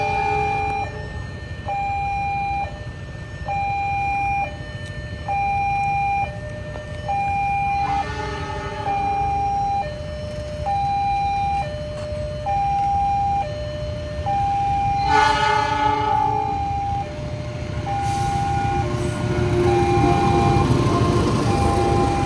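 Kertajaya passenger train passing the Kalijaya level crossing in Cikarang, with the crossing's alternating warning bell ringing steadily throughout and the rumble and horn of the train rising loud and close toward the end.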